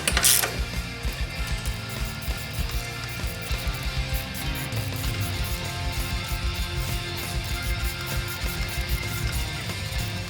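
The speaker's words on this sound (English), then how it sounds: "We're going to tighten them up, get them snug, and then go quarter turn" Ratchet tightening 12mm bolts on the turbo side of an engine bay, steady fast clicking close up over about ten seconds, with a sharp knock at the start.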